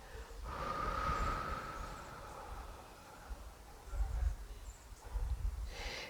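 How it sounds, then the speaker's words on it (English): Slow, deep human breathing during a grounding exercise: a long drawn inhale, then a soft extended exhale, fairly close and quiet, with faint breathy rustle and no talking. "Take a breath in. And fully ground slowly, exhaling."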